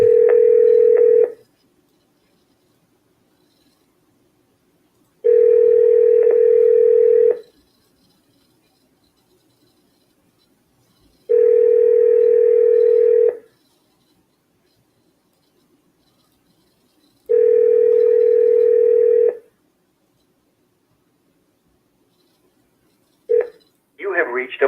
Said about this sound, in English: It's calling my voicemail.